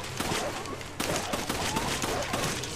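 Gunfire in the video game Resident Evil 5, a dense fusillade of rapid shots and bursts packed close together, loud and continuous across the whole stretch with no talk over it.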